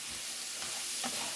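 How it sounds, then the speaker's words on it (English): Ground hamburger meat stir-fries in a pan with a steady, close sizzle, broken by a couple of soft spoon scrapes. "We're just going to stir fry it till it get brown."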